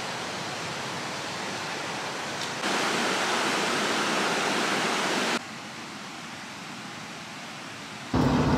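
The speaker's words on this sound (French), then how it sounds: "Cette petite cascade est donc validée." Steady roaring rush of a small waterfall in the Cirque de Salazie, Réunion, close and loud, with the intensity shifting between sections and no voices.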